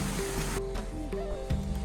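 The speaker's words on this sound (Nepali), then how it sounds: "खोला पनि यस्तो बवाल छ क्या" A rushing river stream in a Nepal jungle, a steady broadband roar of flowing water close by, with faint background sounds and no talk.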